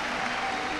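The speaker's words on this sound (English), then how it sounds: "the fans standing and clapping" A crowd at a senior night volleyball match claps steadily, a dense, even wash of applause filling the brief moment without pause.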